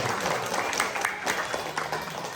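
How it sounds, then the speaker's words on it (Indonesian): Audience applause at a Halal Bihalal gathering of HDI Cirebon, a steady wash of many clapping hands at moderate distance, continuous through the whole moment. "Tepuk tangan untuk luar biasa"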